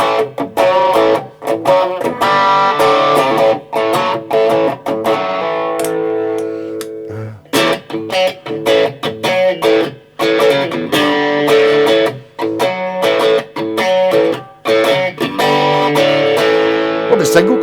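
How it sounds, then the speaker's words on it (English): A B.C. Rich Bich NJ Series electric guitar plays chords with a mild overdriven crunch, in rhythmic bursts with short pauses and stops between phrases. "Go for the mild overdrive"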